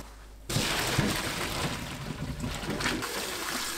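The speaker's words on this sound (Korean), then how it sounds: "찬물에 헹굽니다" Blanched young radish greens are rinsed in cold water, and after a short quiet start comes continuous splashing and sloshing. Several sharper splashes stand out as the greens are shaken about, close and moderately loud.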